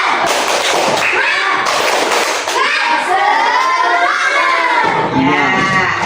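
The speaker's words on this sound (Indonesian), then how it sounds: "Sekali lagi, tepuk semangat." A classroom of students does a rhythmic spirit clap, loud patterned clapping mixed with children's shouting and chanting voices, close and continuous throughout.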